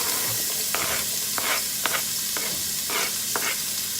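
Garlic and onion hit hot cooking oil for a steady, close sizzle, with intermittent scraping stirs and bursts of spattering crackle throughout.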